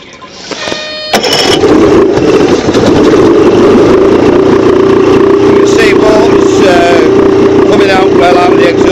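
Suzuki 85 hp outboard engine cranks with a few sharp clatters, catches and settles into a loud, steady running drone close by, with voices audible over it.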